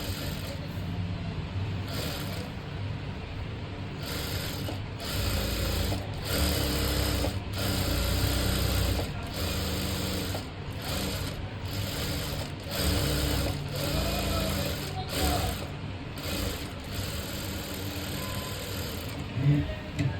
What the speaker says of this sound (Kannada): ಒಂದು ಹಾಫ್ ಇಂಚ್ಗೆ ನೀಟಾಗಿ ಸ್ಟಿಚ್ ಮಾಡ್ಕೊಂಬಿಡಿ